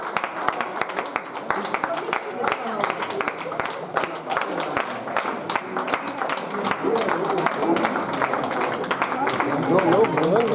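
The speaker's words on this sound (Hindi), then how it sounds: "तालियां बजती रहनी चाहिए।" A seminar audience in Varanasi claps steadily and continuously, a dense wash of hand claps filling the room while a speaker talks over it.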